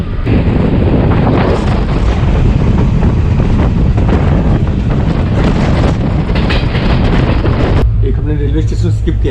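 The Sikkim Mahananda Express running on rails in the Dooars region of India, recorded from the open door: loud, constant rumble and clatter of the moving train, heavily buffeted by wind noise.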